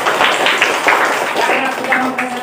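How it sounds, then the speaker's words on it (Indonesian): Students clapping in a classroom after group presentations, a short burst of brisk, close, uneven applause with voices mixed in. "tepuk tangan untuk semuanya."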